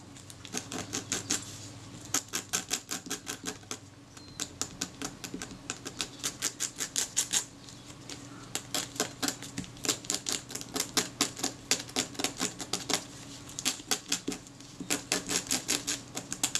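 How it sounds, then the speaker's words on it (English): Scraping at leatherette panels on a Kodak Retina IIIS camera during repair, a long run of rapid rhythmic scratchy strokes in bursts with short pauses, close and fairly loud, with no talk. "I will have to scrape away at these and try and get them as smooth as I can."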